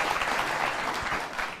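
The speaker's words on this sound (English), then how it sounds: "clap away" A live audience claps steadily and loudly at a speech, with dense, continuous applause filling the whole stretch before it tapers slightly at the end.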